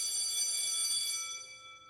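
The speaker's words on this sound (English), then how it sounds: "The class bell rings, disrupting the moment and snapping everyone back to reality." A school class bell rings in the video game I Love You, Colonel Sanders, a sustained bright electronic tone with steady harmonics that holds for over a second and then fades softly, heard alone without any talk.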